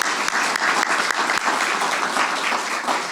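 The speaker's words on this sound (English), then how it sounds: "let's give them a round of applause" A community meeting audience gives a steady round of applause for first responders, with dense clapping and a few sharper individual claps standing out near the start.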